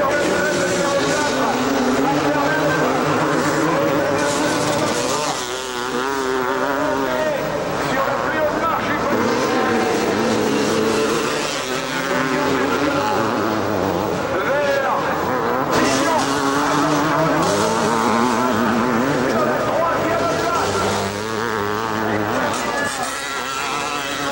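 Motocross motorcycles racing in the 500 class at the 1988 Motocross des Nations in France, their engines droning and rising continuously at close range while a commentator speaks over them throughout.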